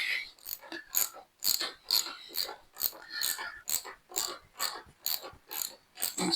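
A hand ratchet clicks in a steady back-and-forth rhythm while undoing a bolt on the pillion seat of a Royal Enfield 350 Bullet Classic, the close, sharp pawl clicks repeating about a dozen times alone.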